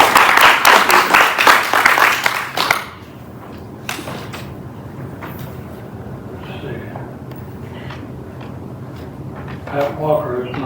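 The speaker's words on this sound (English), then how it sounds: "let's give her another round of applause" A church congregation breaks into dense, lively applause for the service's musician. The clapping lasts about three seconds and then stops abruptly, leaving a quiet hall with small knocks and faint murmurs.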